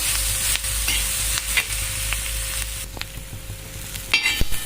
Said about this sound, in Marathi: साधारणतः एक 5 मिनिट कंटिन्यू आपल्याला हलवत भाजायचं, जेणेकरून छान असं भाजलं जातं